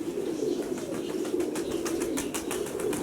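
Pigeons coo in a low, continuous murmur outdoors, a steady layered cooing with faint wing flutters and chirps mixed in, fairly close and unbroken throughout.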